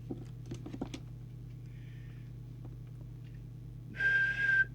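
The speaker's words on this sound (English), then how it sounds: "Now we'll do the whistle test." After near-silence over a steady low hum, a single sustained whistle sounds near the end, lasting under a second, with faint clicks earlier.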